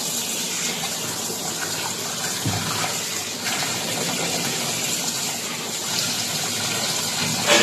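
Goat meat being washed under running water, a continuous loud gush from a tap with occasional splashes, no voices.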